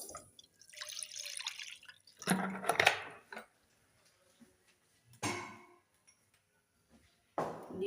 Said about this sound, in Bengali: গ্যাসটাকে জ্বালিয়ে নিলাম, দিয়ে দেবো জল